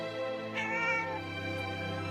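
A cat meows in a drawn-out, wavering call somewhere down a hallway, a single sustained cry heard clearly and fairly close within a dramatic story scene.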